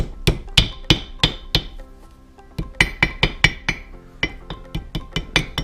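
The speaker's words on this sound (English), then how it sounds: "just hit it with the hammer so it goes" A hammer strikes metal to seat a pinion bearing during a BMW differential rebuild: two bursts of sharp, ringing, evenly paced blows, five and then about a dozen, separated by a short pause, close and loud.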